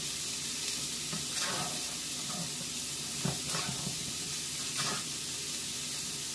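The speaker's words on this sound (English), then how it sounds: "Mix everything together." Coconut cilantro lime rice being stirred and mixed in a hot pan, with a soft continuous sizzle and a few scraping, clattering stirring strokes close by.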